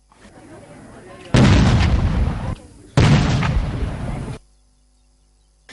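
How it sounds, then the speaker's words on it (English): Ceremonial 21-gun salute for the President at a state event, heard as two long, loud booming bursts of artillery fire, each rolling for over a second, separated by a short pause and followed by quiet. "A 21-gun salute was also accorded to the President."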